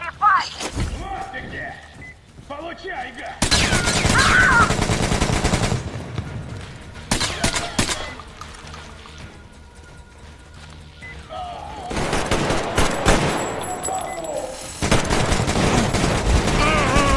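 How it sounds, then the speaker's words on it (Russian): Automatic gunfire in the video game Metro Exodus, loud bursts of rapid shots in several long stretches with thuds and crashes between, and someone talking at times. "Еще пушка как-то странно стрелять стала в автомат."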